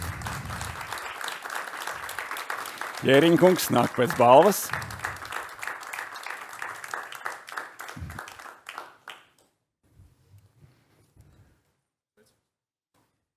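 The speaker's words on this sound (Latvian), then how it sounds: "Aplausi Liepājai!" Applause at a road traffic safety index award ceremony, a crowd clapping steadily for several seconds while an amplified presenter speaks over it, then dying away into near silence.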